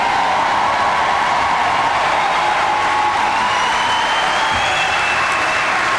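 A large commencement crowd at an undergraduate graduation ceremony cheers and applauds, a loud, dense, continuous roar of clapping and shouting with a faint whistle near the end.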